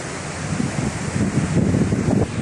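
Strong wind in Dubai roaring steadily and loudly through trees, buffeting the microphone with low rumbling gusts throughout.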